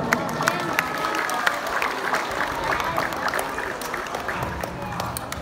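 Warm applause from an outdoor community gathering greeting a local communal-lands official, steady crowd clapping with cheers and murmuring voices mixed in throughout.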